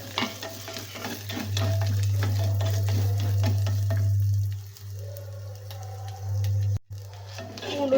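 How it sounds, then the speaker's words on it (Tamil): Garlic and chopped coconut fry in a clay pot, giving a close, steady sizzle with stirring scrapes and a low hum underneath, cut off briefly near the end. "நல்லா பூண்டை வறுத்துக்கலாம்"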